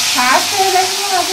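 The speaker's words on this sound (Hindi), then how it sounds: "देखिए तेल छिटके" Fish frying in hot oil, a steady close-up sizzle with crackling spatter filling the short moment, loud and continuous with a faint voice under it.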